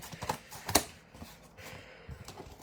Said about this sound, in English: So I'm just going to go ahead and trim with some scissors